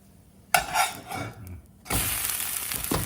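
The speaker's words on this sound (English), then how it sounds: "I can hear it sizzling." A chicken sandwich sizzles while frying in a pan, first as scattered crackles and stirring clatter, then as a steady, loud hiss that carries through to the end.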